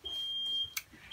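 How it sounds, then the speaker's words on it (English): A house smoke alarm gives one steady, high electronic beep lasting about half a second, then a short bright chirp. The alarm sounds alone, close and moderately loud, with no talking. "This is our fire alarm, guys."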